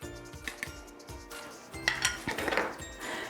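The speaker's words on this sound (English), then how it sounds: "I'm just going to stir in a little bit of baking powder." A fork stirring flour and baking powder in a bowl for pizzelle cookie dough, a quiet series of quick scrapes and light clinks against the bowl, close and faint, without talk.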